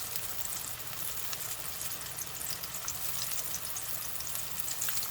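Breaded chicken sandwich fillets fry in hot oil with a steady, even sizzle and fine crackling. The bubbling stays constant at moderate distance, with no talk.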